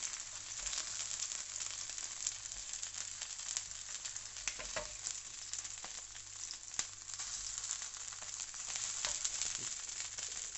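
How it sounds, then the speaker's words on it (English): Salt and pepper chicken frying in hot, spitting fat, a dense continuous crackling sizzle with scattered sharp pops, steady and close throughout. "Be very careful of the spitting fat because it is rather aggressive."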